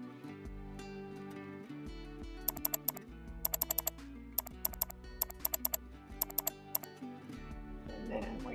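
Sharp mouse clicks in single and rapid double bursts, close and crisp, scattered over a steady bed of background music while a pattern line is selected and cut in software.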